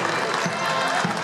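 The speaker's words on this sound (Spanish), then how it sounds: "Los niños son los que aplauden" Children applauding in a school courtyard as former students enter, a short burst of scattered clapping amid crowd murmur and nearby voices.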